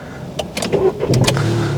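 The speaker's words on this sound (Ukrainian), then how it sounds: "Доля секунди і машина завелася." A Skoda Fabia diesel starts in cold weather, with a few quick cranking bursts catching into a steady low idle rumble, loud and close.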